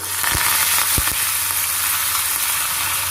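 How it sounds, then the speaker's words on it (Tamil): Curry leaves crackling in hot oil as tempering for mor kuzhambu, a loud, steady sizzle with a few sharp pops near the start, close up and with no talking. "கருவேப்பிலை ஒரு கொத்து போட்டுக்கலாம்."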